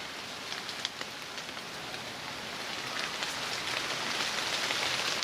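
Heavy rain falling on trees near Dunster Beach, a dense, steady hiss of drops close by that grows slightly louder and heavier over the few seconds, with no voices.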